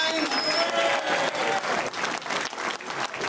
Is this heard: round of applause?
yes